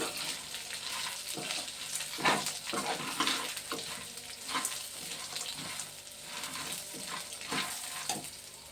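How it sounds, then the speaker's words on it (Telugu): Peanuts frying in oil in a pan, a steady soft sizzle with occasional stirring scrapes, continuous and moderately quiet throughout. "ఇప్పుడు పొట్టు తీసుకుని వేసేస్తున్నానండి పల్లీలు. కొంచెం వేగాలండి కూడా."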